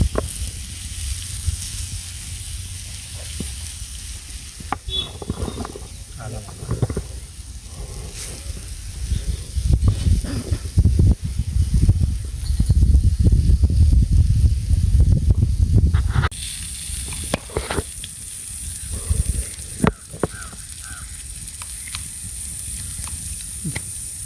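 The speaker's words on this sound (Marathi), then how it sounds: "प्रतीक दगड पनीर फ्राय" Paneer fries on a hot stone during outdoor forest cooking, with a steady loud sizzle and hiss that swells and thickens midway before easing back, close and continuous.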